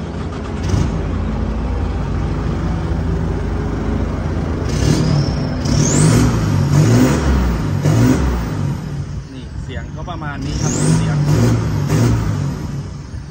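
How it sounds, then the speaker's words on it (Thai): An Isuzu pickup truck with a 3,000 cc engine and a racing-style exhaust is started and revved, giving a loud, close, rumbling idle that swells in repeated throttle blips while someone talks over it. "เดี๋ยวสตาร์ทให้ฟังเสียงมา ก็สไตล์ท่อซิ่งก็จะเสียง"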